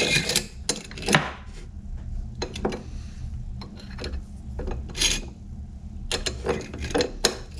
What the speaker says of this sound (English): we're gonna file this here ring with this spiffy ring filer